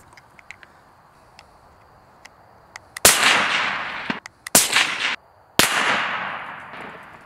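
Rifle shots from a Bergara B-14 HMR in 6.5 Creedmoor or .308 Win at a long-range steel target, three loud sharp cracks each followed by a decaying echo, with faint clicks and handling noises before them.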